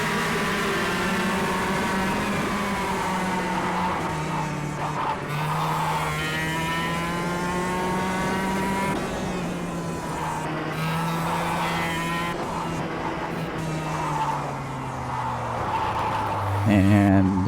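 Go-kart engine in the KartKraft racing game, a loud continuous buzzing drone that rises and falls in pitch with throttle and gear changes, with occasional tire squeal.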